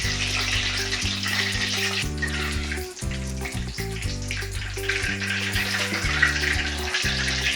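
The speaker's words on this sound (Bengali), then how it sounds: "কড়ার মধ্যে জল ছিল, ওই জন্য আওয়াজ হচ্ছে তেলটা দেওয়ার পরে।" Oil hisses and crackles steadily in a karahi that still held water while sitabhog fries, a continuous close sizzle under a constant musical background.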